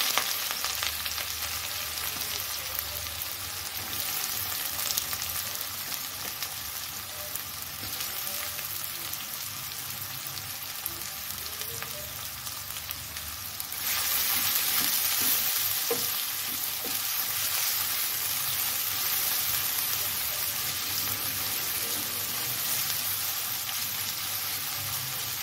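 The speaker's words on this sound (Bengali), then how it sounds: "পেঁয়াজটা ফ্রাই হয়ে গেছে" Onions frying in hot oil in a pan for a rohu fish curry, a constant dense crackling sizzle that grows noticeably louder partway through, with faint stirring scrapes beneath it.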